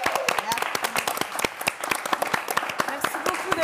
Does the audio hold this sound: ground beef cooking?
no